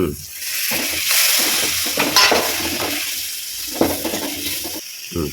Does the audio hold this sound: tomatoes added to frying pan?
yes